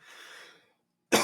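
A single sharp cough bursts out close and loud after a short stretch of faint breathy noise and silence, during a live trading session.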